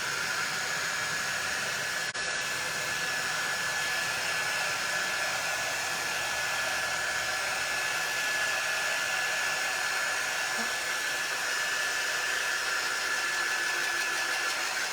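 A hair dryer blows steadily on wet barn-red paint, a continuous close, even whoosh of air with no breaks, running alone without voices.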